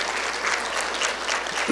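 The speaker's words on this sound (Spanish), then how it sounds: "Un aplauso para ellos y para todos ustedes, por favor" Audience applause at a Spanish-language church service, steady dense clapping from a crowd filling the whole stretch without pause.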